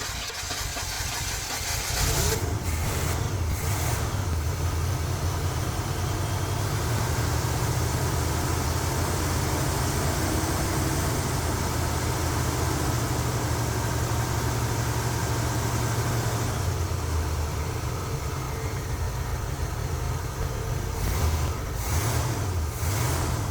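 A 1977 Pontiac Bonneville engine cranks and catches, then runs with a rough, loud steady rumble for most of the time before being shut off near the end.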